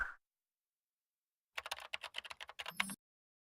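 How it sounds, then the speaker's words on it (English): Rapid typing on a computer keyboard, a quick close run of crisp key clicks lasting over a second after a stretch of silence, fairly faint and alone. "As Harold resumes typing"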